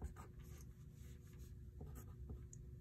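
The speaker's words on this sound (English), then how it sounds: "I'm going to write collar." A pen writing the word collar onto a sewing pattern piece, producing faint, close scratchy strokes in short bursts against a quiet room.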